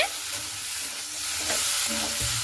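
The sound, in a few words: stirring spice masala with fried potatoes in a pan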